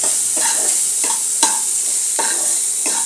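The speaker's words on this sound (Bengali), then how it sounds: "দিয়ে এগুলোকে একটু লাল লাল করে ভেজে নেব।" Spices with turmeric and salt frying in oil in a pan for titor dal, a loud, steady sizzle broken by regular scraping strokes of a spatula, close up.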